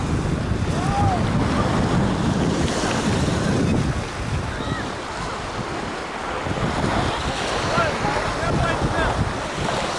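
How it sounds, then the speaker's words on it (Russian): Sea waves wash onto a beach at Ulcinj, Montenegro, a steady surf rush mixed with wind buffeting the microphone, with faint voices of beachgoers in the distance. "Ну вот он, такой пляж, и пляж без всяческих выкрутасов."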